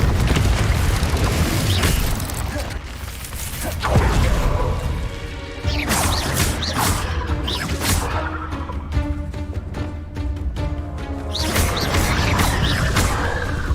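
Confringo blasting spells explode in the Hogwarts Legacy video game amid a chaotic duel, loud booming crashes recurring over dense layered combat effects and music without pause.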